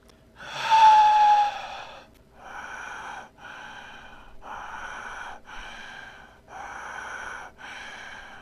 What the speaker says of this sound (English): began to take its first breath of life